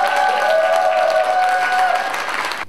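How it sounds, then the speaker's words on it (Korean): Audience applause opening the third Ansan SDGs forum in Ansan, a steady, full round of many hands clapping with some crowd noise and a sustained tone underneath, ending abruptly. "힘찬 박수와 함께 시작하도록 하겠습니다"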